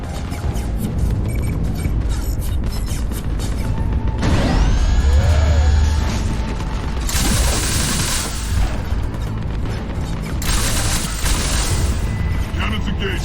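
Cannons firing in the Mass Effect 3 Omega DLC: dense, continuous booming gunfire and crashing blasts with mechanical whines and sweeping tones, loud and sustained throughout.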